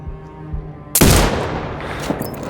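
A single loud sniper rifle shot cracks out in Sniper Ghost Warrior Contracts 2 after a low droning game ambience, followed by a long, broad rumbling echo that fades slowly.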